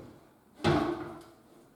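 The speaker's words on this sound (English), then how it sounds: "now I'm just going to snap all the doors on." A gloss grey handleless kitchen cabinet door snaps onto its hinges with a single sharp clack, followed by a short rattle that fades and a faint second tick, close by with no talking.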